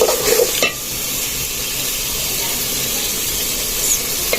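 Goose meat drops into hot fried spice paste in a pan, a louder burst of sizzle and stirring at the start settling into a steady, close frying hiss that continues alone.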